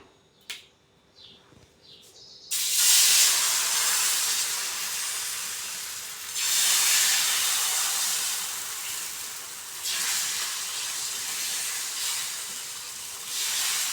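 Wheat flour dosa batter hits a heated, oiled pan. After a few quiet clicks, a loud, sustained sizzle and hiss erupts and keeps going, swelling and easing as it spreads.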